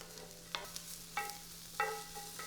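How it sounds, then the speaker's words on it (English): Mushrooms sautéing in a pan while being stirred, soft scraping strokes of a utensil repeating every half second or so over a faint low sizzle, quiet and close. "Keep stirring, just until the mushrooms are tender."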